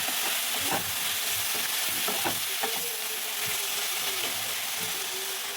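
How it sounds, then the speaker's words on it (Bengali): Ground bottle gourd leaves with turmeric fry in a pan under steady stirring: a continuous sizzling hiss broken by clattering spoon scrapes and pops, close up and without speech. "আর দিয়ে দিচ্ছি একটু হলুদ, দিয়ে এটাকে নেড়ে চেড়ে শুকিয়ে নিচ্ছি"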